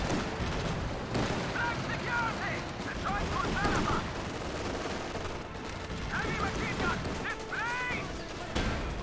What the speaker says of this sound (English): Centaur firing away.